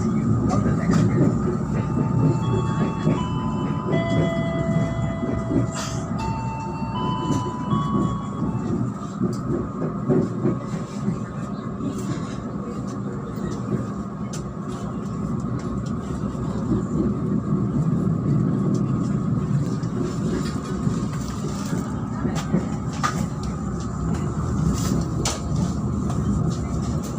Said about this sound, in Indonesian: stay here until the train completely stops